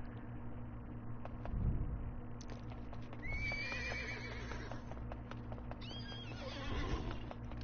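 In the Disney Infinity 2.0 video game, a horse whinnies twice, clear and close, with hoof clip-clops under a steady low game hum and no talking.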